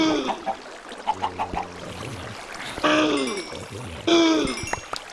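Chickens in Minecraft FTB Infinity Evolved clucking and squawking in a few short, close bursts, harsh nasal calls rising and falling over a quiet background.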